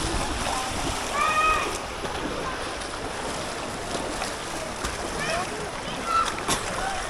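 Strong waves splash and churn around a small boat at sea, with wind noise and water slapping close by while people talk over it.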